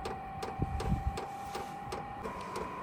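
A VEVOR diesel heater's fuel pump ticks in a steady, regular rhythm as the heater cranks up, each click sharp and evenly spaced over a constant whine and fan hum, with no talking.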